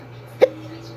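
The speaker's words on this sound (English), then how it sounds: "I'm sorry if I have the hiccups." One short, sharp hiccup from a man stands out against a steady low hum in an indoor room.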